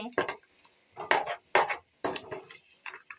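Meat and spices being sautéed and stirred in a pan, with repeated scraping strokes of a spoon against the metal over a soft sizzle, close and fairly loud, with no talk.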